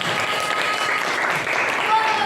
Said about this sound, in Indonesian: Oke, tepuk tangan untuk Topa.